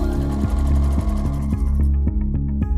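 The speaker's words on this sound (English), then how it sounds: "And then I'm just going to sew" A sewing machine stitching quilt binding, running in a fast, even mechanical rhythm of repeated needle strokes, close and loud, alone with no talk.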